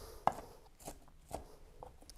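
Knife rough chopping spinach and peppers on a board for muffin tin omelets, a few separate cuts spaced irregularly, moderately close and fairly quiet, no talk.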